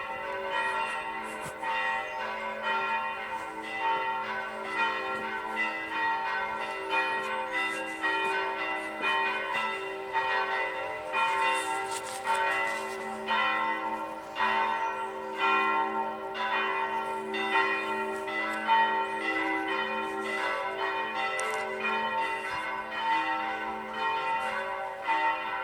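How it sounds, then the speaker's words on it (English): Church bells peal from a bell tower in Rome near the Basilica of St. Agnes, a steady, continuous ringing of overlapping tolls with rich sustained tones, fairly close and loud, with no talk over them. "There's the bell tower."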